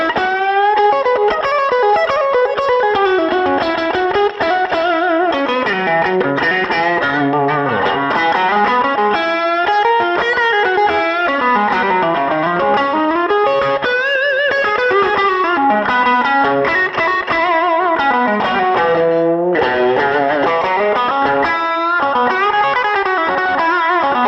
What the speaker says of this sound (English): Now I've got the Texan Twang on the high setting currently, which is what I've used for recording all of the tones in this video